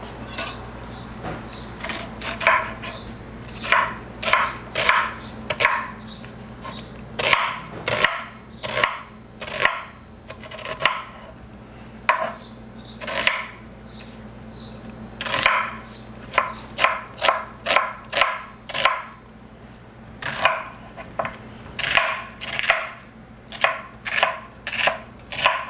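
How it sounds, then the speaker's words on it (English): A knife chops rapidly through an onion on a cutting board in a home kitchen while lemon baked chicken with parsley is being prepared, giving steady bursts of sharp knocks that come in quick runs with short pauses, close and clear, with no talking. "I'm going to slice my onion."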